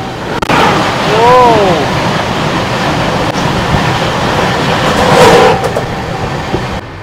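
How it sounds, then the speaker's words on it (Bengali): An Amrit Bharat Express rushes past on an Indian railway line, heard from inside another moving LHB passenger train: a loud, continuous rumble and rattle of wheels and carriages, with a brief whining tone and sharp clicks over the roar. "এবার আসছে এসএমভিটির অমৃত ভারত এক্সপ্রেস"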